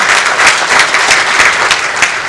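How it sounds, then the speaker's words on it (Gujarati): A seated audience at a Thursday talk gives a round of applause for a guest speaker, steady dense clapping that stays loud for the whole moment with no talking over it. "જોરદાર તાળીથી વધાવીએ."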